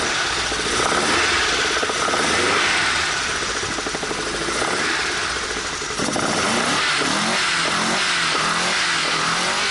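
A rebuilt car engine from an Alfa Romeo 33, Alfasud or Lancia Beta revs hard and continuously, a loud, dense roar with rising and falling pitch sweeps that fills the whole stretch.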